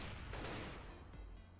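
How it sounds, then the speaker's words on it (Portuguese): Bursts of gunfire in the CS:GO video game, loud and dense rapid shots with a couple of sharp reports standing out, heard alone without talk. "levei também com uma beca de tiros"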